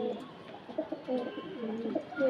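A male Andhra Kalanka pigeon coos in a loft, giving soft, low, repeated throaty calls close by.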